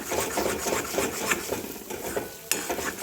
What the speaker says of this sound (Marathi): हलवत राहायचं असं, खाली ते चिटकून जाईल आणि करपल परत मग ग्रेव्ही.